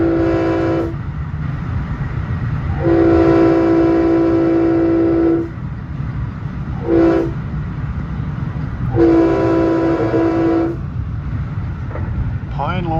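A Long Island Rail Road M3 commuter train rumbles past continuously near Pine Lawn Station while its horn sounds in several long, loud blasts separated by short pauses.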